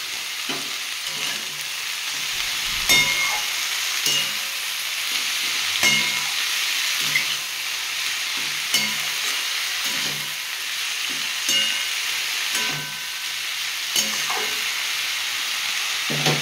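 Mustard greens frying in a pan, a steady close sizzle and hiss with occasional soft knocks of stirring.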